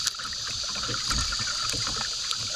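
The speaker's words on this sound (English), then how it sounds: "So I'm just relaxed paddling." Canoe paddled across moving water about 70 feet from shore on a morning trip, with steady gentle water wash and soft paddle strokes throughout, fairly close and continuous, with no talking.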